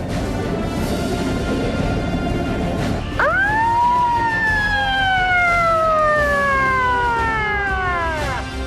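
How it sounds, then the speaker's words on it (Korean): A loud military vehicle siren wails in long sweeping tones during a night training drill, starting partway through and rising and falling twice over a steady rumble of engine and road noise. "사이렌 소리는 주변 차들에게 보내는 사인입니다."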